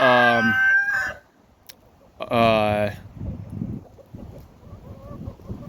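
Two loud bursts of chicken vocalizing close by, harmonic and crowing-like, separated by a brief pause, followed by quieter rustling and low background noise; hens including a silver laced Wyandotte on a farm.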